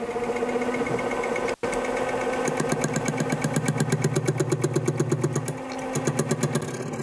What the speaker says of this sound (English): I have it mounted to the lathe